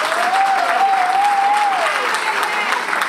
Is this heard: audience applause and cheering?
yes